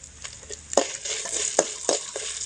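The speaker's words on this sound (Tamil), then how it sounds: "இந்த உளுந்தோடய இந்த மிளகாய் மட்டும் நம்ம வறுத்து எடுத்துக்கலாம்" Urad dal and dried chillies roasting in a pan for a sundakkai thuvaiyal, with a steady soft sizzle and several sharp scraping stirs of a spoon against the pan, close by and without speech.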